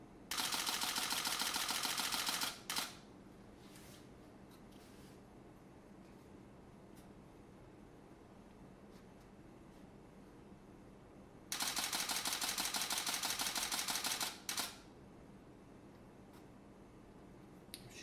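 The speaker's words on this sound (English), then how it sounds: "original 1D. 8 frames a second. Still fires beautifully." A 2001 Canon EOS 1D with a 28-135 lens fires two rapid bursts at 8 frames per second, each a few seconds of dense, crisp mechanical shutter clatter, separated by a long near-silent pause.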